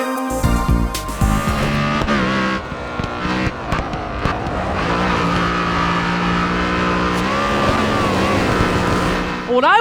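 Race car engines from the GRID Autosport video game on Xbox 360, with loud revving and shifting gear pitches, tires and passing cars blending into a dense continuous roar, while a voice talks over part of it.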